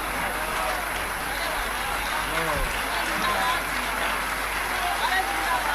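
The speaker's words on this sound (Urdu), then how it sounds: "باپو آشیرواد سوروپ آپ کے لیے اب تک تالیاں بجا رہے ہیں." Audience applauding at an Urdu poetry recital honoring poet Munawwar Rana, sustained dense clapping throughout, with a voice speaking over it.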